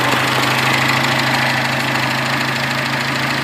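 The turbocharged 22RE-T engine of a 1986 Toyota SR5 TRD pickup idles close by, a loud, steady, even rumble with a fine rhythmic knock throughout and no talking.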